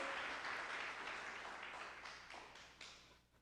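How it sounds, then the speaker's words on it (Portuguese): Scattered applause from a church congregation, a broad hiss of many hands clapping at moderate level that thins out and fades gradually, with a few sharper claps near the end. "pode aplaudir ao Senhor."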